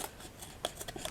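Scissors trim excess fabric on a small doily Christmas tree craft, giving a few quick, close, soft snips in a brief burst.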